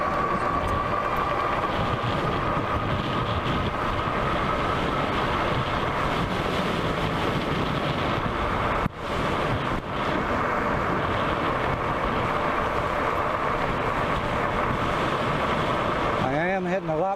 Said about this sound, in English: So I'm getting a lot of headwind.